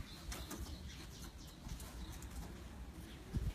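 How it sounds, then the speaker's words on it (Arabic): Pigeons inside a loft with ventilated roof and closed compartments, heard as faint cooing and occasional wing flaps over a steady background hum. "هاي طيور،"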